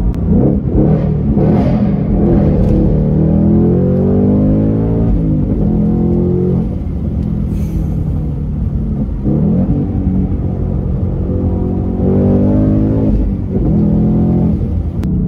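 A 771-horsepower Ford Mustang Shelby GT500 engine revs and rumbles loudly from inside the car, rising in repeated pulls, deep and throaty, with no talking.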